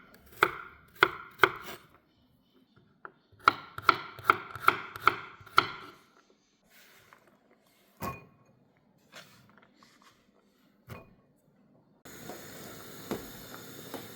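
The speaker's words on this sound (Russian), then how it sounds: "И чесночок порежу сейчас." Sharp knife taps on a cutting board while chopping garlic, in quick bursts, a few chops then a rapid run of six or so, with softer clatter and rustling afterward.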